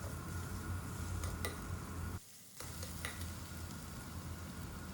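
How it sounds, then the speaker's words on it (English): Chopped tomatoes frying with golden onion, ginger and garlic in a pan, a steady close sizzle with light stirring scrapes and a brief dip in the middle before the sizzle returns. "we'll add the chopped tomatoes into it. Stir them once."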